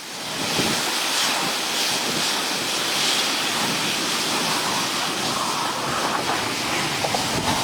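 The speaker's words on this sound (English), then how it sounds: "Intense storms unleashed dangerous flash floods in the Texas Panhandle, sending powerful waves of muddy water rushing through the valley." Muddy floodwater surges through a valley in the Texas Panhandle during intense storms, a loud, continuous broadband roar of rushing water with steady wind-like rumble and no talking.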